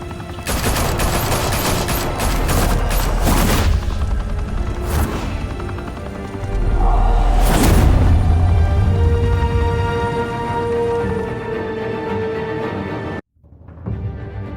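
Heavy gunfire and explosions in the Batman Telltale Series game roar in a loud, continuous barrage with swelling booms, then cut off abruptly to near silence before the noise returns.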